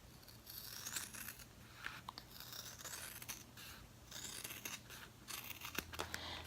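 Scissors snip through a stretchy sketch keeper in a series of quiet, sharp crunching cuts and short scrapes, faint and close with no talking.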